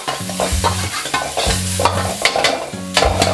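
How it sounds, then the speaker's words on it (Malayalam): Chicken sautéing with chopped garlic and ginger in a hot pan: a loud, steady sizzle under repeated scraping strokes of a spatula, close up. "നമ്മുടെ ചിക്കൻ സോട്ടേ ചെയ്യാം. ഒരു ടീസ്പൂൺ ഗാർലിക്, ഒരു ടീസ്പൂൺ ജിഞ്ചർ ചോപ്പ് ചെയ്ത് കൊടുക്കാം."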